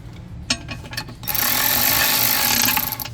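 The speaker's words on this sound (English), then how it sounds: "now I'm gonna grab the ratchet and run them in with the ratchet and make them snug" A ratchet works bolts snug on a 2005 Toyota Tundra transmission, a few sharp clicks first, then a steady, close, buzzing run of rapid pawl clicks for a couple of seconds.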